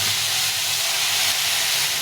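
Tomato frying with ridge gourd in a pan gives a steady, loud sizzling hiss that stays even and unbroken throughout, with no talk.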